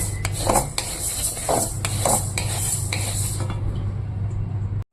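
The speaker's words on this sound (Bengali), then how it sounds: "ডালটাকে একটু কাড়া করে ভেজে নেব" Mixed lentils dry-roasting in a pan at home, heard as a steady, close scraping and rattling of a spoon stirring against the metal, with light rhythmic strokes and a faint hiss, no voices.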